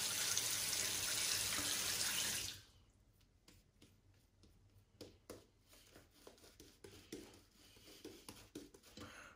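Water runs steadily from a tap for a couple of seconds while lather is made for a straight razor shave, then stops, leaving small drips, splashes and handling sounds.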